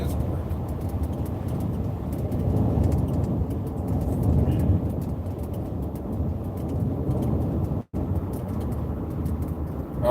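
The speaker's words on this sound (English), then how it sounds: "I'm driving the old Avalon now." An old Toyota Avalon is heard from inside the cabin while driving in Florida, giving a steady low road and engine rumble that fills the whole stretch, with only a brief dropout near the end.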